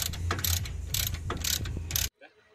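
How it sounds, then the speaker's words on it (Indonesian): A ratchet tightens idle arm bolts on an Isuzu Panther, rapid clicking ratchet strokes in bursts, close and loud, ending abruptly. "Kita pasang semua baut pegangan idle-nya ini. Kita kencangkan"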